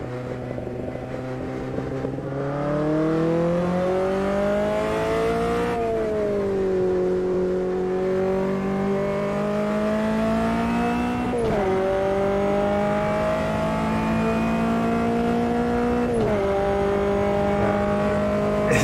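Race car engine in the sim racing game Automobilista 2, a 170-horsepower car with an H-pattern gearbox climbing a mountain course, droning steadily and loud with rising pitch through each gear and brief dips at three upshifts.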